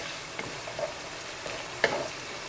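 Semolina (suji) and frozen peas frying in a pan for upma: a soft steady sizzle with a few light stirring scrapes and clicks, quiet and close.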